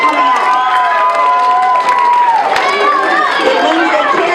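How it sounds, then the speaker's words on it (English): Parents and children at an elementary school family fun night clap and cheer loudly, a dense crowd of applause, shouts and chatter filling the room continuously. "let's give your moms and dads a big hand for coming out."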